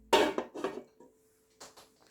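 A lid set onto a pasta pot on a stove gives a clattering metal clank followed by a few lighter rattles, then a quieter pair of knocks as it settles; close, brief, with no talking.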